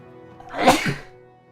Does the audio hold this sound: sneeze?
yes